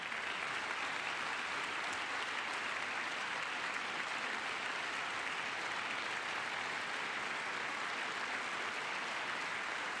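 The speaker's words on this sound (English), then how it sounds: "Some Democrats are clapping." Applause in the chamber of Congress during a Trump speech, a dense, continuous wash of clapping from a large crowd at constant volume for about ten seconds, no speech on top.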